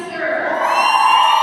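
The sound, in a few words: crowd cheering at a varsity hockey game goal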